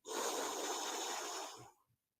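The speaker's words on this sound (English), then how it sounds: "Deep breath in through the nose." A long, deep breath drawn in through the nose during a gentle yoga session, a close, breathy rushing inhale lasting under two seconds before fading to silence.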